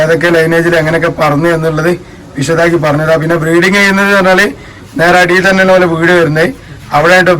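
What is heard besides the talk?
No everyday noise stands out behind the speech.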